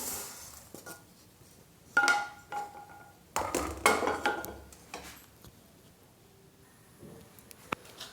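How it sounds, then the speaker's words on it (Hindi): Roasted sesame seeds scraped and poured from a pan onto a plate, giving a few loud bursts of metallic scraping and light pattering, separated by quieter stretches. "तिल भून गए हैं, इनको निकाल लेते हैं प्लेट में"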